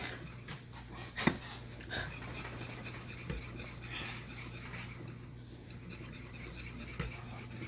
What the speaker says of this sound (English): Sorry about the noise in the background, my dogs are fighting.